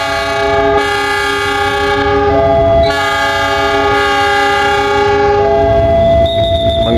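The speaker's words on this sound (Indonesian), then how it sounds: "langsiran rangkaian yang nanti akan digunakan untuk kereta api Pasundan." A train shunts at Kiaracondong station in Indonesia, its horn blaring in long steady blasts over the rumble of the rolling stock, loud and near.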